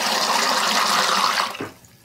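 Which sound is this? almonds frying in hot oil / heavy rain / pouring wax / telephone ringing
pouring wax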